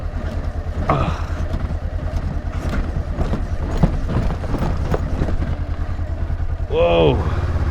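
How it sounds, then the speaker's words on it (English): A Honda CB500X motorcycle with about 150,000 km on it rumbles down a flight of stairs, its engine droning loudly beneath a series of sharp thuds and rattles as the suspension takes each step. "that's riding down some stairs"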